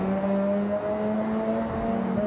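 Car engine in Forza Horizon 6, driven with a manual gearbox and clutch during a misshift, a steady droning rev with a brief dip partway through, loud and close.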